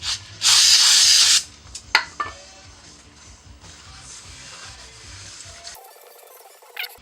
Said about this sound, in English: we're going to clean all of the metal surfaces of the pressure plate, the floater, and the flywheel with some brake clean first